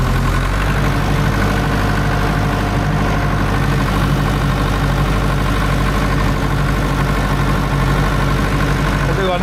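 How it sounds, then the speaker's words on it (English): A small farm tractor pulling a snow flattener, its engine running at a steady low drone with a constant throbbing hum, loud and close throughout without a break. "Don't need a lot of power to pull this, so you can do this with the small tractor."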